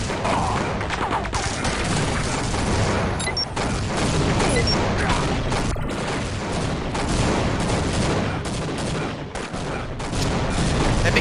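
Gunfire in a team shooter video game: continuous loud volleys of rapid shots and booms stacked densely for several seconds, with brief dips, no talk audible.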